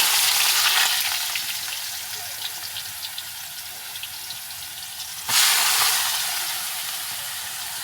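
Chopped ash gourd frying in a hot pan, a steady loud sizzle across the whole stretch that eases off, then flares up sharply again as more is stirred or added.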